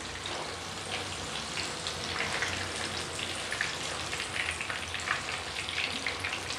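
King fish (surmai) frying in a pan over medium heat, a steady crackling sizzle with fine popping spatters throughout, close and fairly even in loudness.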